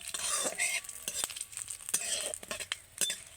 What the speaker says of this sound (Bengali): অল্প একটু কালো সর্ষে এবার আমি দিয়ে দেব বেশ কয়েকটা কারি পাতা হালকা করে ভেজে নেব